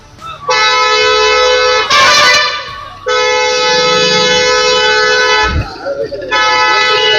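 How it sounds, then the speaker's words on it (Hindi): On a road in Nashik, a vehicle horn blares in long, loud, sustained honks, three blasts separated by short gaps, with traffic rumbling underneath. "गाड़ी के पीछे हॉर्न मार रहा है वो।"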